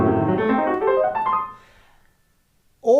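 A short piano passage by Mozart played as written rings out close, then fades to near silence before a voice begins at the very end.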